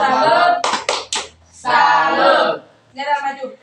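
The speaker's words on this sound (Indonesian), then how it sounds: "Tepuk salut untuk Chris." A classroom in Indonesia performs the rhythmic 'tepuk salut' clapping chant: loud bursts of voices alternate with a few sharp, close hand claps in a short patterned sequence.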